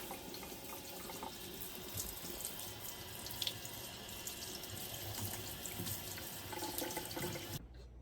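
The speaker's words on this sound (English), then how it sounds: "Earlier today, I got going on washing my vegetables." Tap water runs steadily into a kitchen sink while vegetables are washed, a soft continuous splashing rush that is quite faint and ends abruptly at the close.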